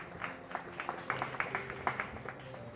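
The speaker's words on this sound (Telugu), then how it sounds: "అందుని బట్టి క్లాప్స్ కూడా ఒకసారి అందరూ కూడా" Audience clapping at a church celebration marking a pastor's 33rd wedding anniversary and retirement day: a soft, steady patter of many hands, fairly distant, with faint tonal background sound underneath.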